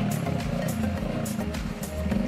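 A Bajaj Discover motorcycle fitted with a Royal Enfield Bullet engine rides through village lanes, its low steady thump running continuously and fairly close throughout.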